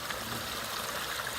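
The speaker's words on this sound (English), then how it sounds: "This is just to show you the water coming out of the actual spring." Water from a spring runs into a pond after a rainstorm, a steady close rushing and trickling wash with no pauses.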